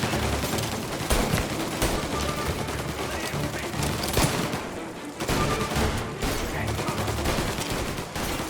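Sustained gunfire in the Mafia: Definitive Edition video game, dense bursts of shots and fusillades that barely let up, with a short lull midway and shouted voices mixed in.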